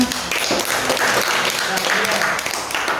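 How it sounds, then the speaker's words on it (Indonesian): Elementary school pupils clap together in a classroom during a computational thinking coding lesson, a dense, steady patter that lasts the full three seconds, with voices mixed in. "Beri tepuk tangan."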